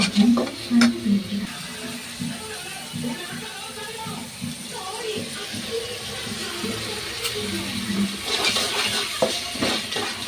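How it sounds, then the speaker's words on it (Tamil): Chopped tomatoes cooking down with salt in a pan for South Indian egg curry, a soft continuous sizzle with occasional stirring scrapes and a few light utensil clinks. "தக்காளி நல்லா வதங்கட்டும்"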